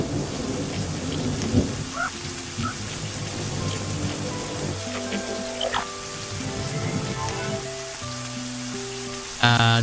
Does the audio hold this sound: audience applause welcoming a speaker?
no